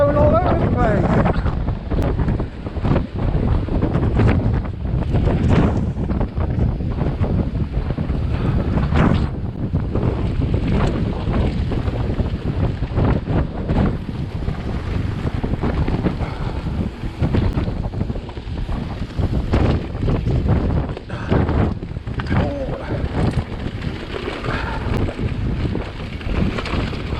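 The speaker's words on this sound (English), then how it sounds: "Oh, it's windy, isn't it?" Strong, gusty mountain wind buffets the microphone in a loud, continuous roar with repeated surges for nearly half a minute, and a voice can be heard beneath it.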